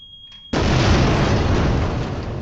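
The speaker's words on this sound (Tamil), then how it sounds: "இங்கேருந்து பார்ப்போம் எப்படி வெடிக்குது" A single loud blast erupts suddenly in Resident Evil 2 Remake after a faint electronic tone, then a dense rumbling roar sustains at full strength without fading, with no talk.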